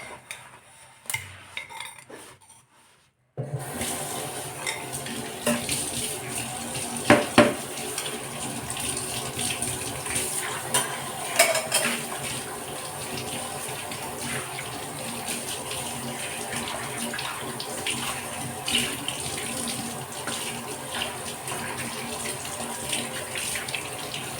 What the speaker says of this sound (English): I washed the bowl.